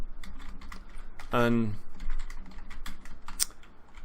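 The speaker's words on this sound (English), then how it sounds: "let's start typing stuff up here" Computer keyboard typing, rapid irregular key clicks throughout, close and moderately loud, with someone speaking briefly over it.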